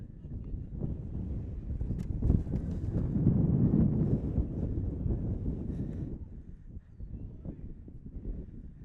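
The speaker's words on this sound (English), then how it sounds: "And the wind is still gusting." Gusting wind at an outdoor college baseball game, buffeting rumble swelling and easing over several seconds, loudest in the middle, with faint voices underneath.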